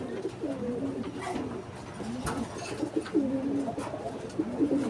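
A racing pigeon coos repeatedly in soft, low phrases against steady background noise, with a brief sharp knock midway.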